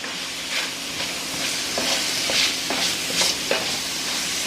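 Eggs frying in a pan on a carnivore cooking day, a steady close sizzle with scraping stirs and bursts of crackling, no voices over it.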